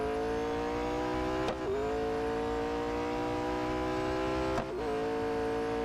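A race car in Real Racing 3 drones along with a loud, steady engine whine that climbs slowly and drops sharply at two gear shifts, with no talk over it.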